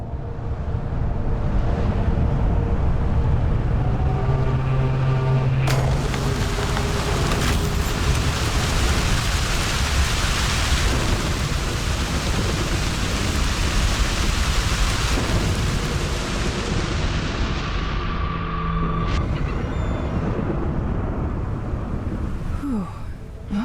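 A thunderstorm rages in the Broken Pieces video game: steady heavy rain hisses throughout while a sharp thunder crack lands near the middle and a second strike rolls in later, all loud and close with no voices.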